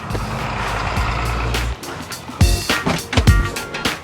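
A huge turbo diesel truck, one of the largest on the road, idles with a deep low rumble, then cuts out and gives way to sharp air-brake hisses and clunks, fairly close and loud with no talk.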